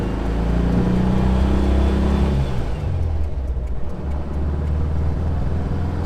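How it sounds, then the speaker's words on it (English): A Speedster car engine with one cylinder not firing fully drones and revs low and loud from inside the car, its uneven rumble settling into a rough steady run. "Got a pissed off cylinder back there. One of them's not firing completely."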